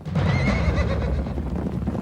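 Horses in a herd neighing and whinnying with hooves clip-clopping beneath, a full, steady and fairly loud mix with no talk.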